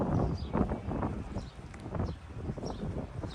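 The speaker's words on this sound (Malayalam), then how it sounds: "നല്ല കാറ്റുണ്ട് കേട്ടോ" Strong sea wind buffets the microphone outdoors at the seaside temple of Murdeshwar, a low rumbling roar that swells and dips in gusts, fairly loud and close, with faint rustling.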